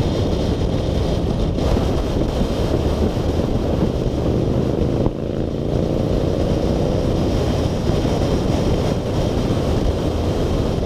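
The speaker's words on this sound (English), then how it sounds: "Sound of the Honda. This chap here, he's put Harley pipes on it that really resonate really well with the engine." A loud Honda motorcycle fitted with Harley exhaust pipes roars steadily and close on a group ride, a dense continuous engine note with wind buffeting and a brief dip in the middle.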